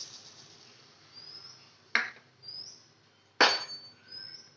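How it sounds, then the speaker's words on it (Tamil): Mustard seeds spluttering in a hot kadai: two sharp, loud pops stand out against a quiet background hiss, with a few softer crackles between them. "கடுகு நல்லா இப்போ கொஞ்சம் கொஞ்சமா பொரியுது"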